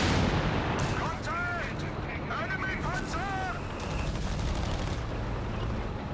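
Anti-tank guns fire in a Company of Heroes 3 match, a dense, continuous layer of distant gunfire and battle rumble running under steady talk, with chirpy tonal effects drifting through.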